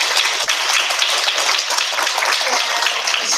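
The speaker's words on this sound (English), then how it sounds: "So again, if we could just applaud Mr. Mitchell." An audience at a school district meeting applauds steadily, a dense wash of many hands clapping throughout without pause.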